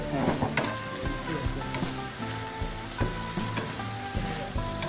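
Napa cabbage and soy sauce stir-fry in a pan for Taiwanese fried noodles, with a loud, steady sizzle broken by sharp clanks of a spatula striking the pan at irregular intervals.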